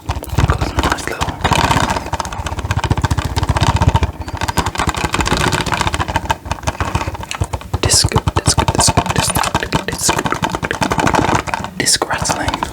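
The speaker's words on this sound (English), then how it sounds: "disc rattling" A 4K Blu-ray case for Midsommar with a custom printed cover is shaken close up, its disc rattling loudly and continuously in dense clattering bursts, with soft speech mixed in.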